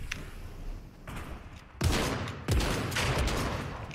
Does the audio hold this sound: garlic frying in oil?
no